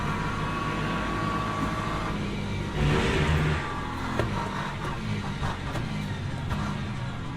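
An LMP3 race car in Le Mans Ultimate, its engine droning at a steady pitch, swelling briefly into a louder rev and then settling back under a continuous mid-range hum.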